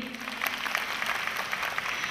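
Seminar audience applauding on self-positioning and startup thinking, a dense steady patter of many hands, fairly close, with no break across the short stretch.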